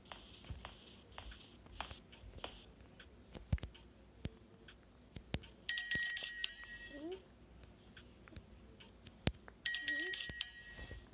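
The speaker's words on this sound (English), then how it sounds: "I can ring the bell." Bicycle-style bell rung in the Granny Chapter Two horror game, two bright metallic ringing bursts, moderately loud, standing out over quiet ticks, thumps and faint ambient game noise.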